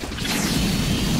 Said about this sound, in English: That's a flare gun.